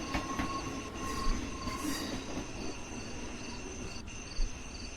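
A goods train rolls in at a station, a steady metallic rumble with high wheel squeals and faint ringing tones, crickets chirping in the background.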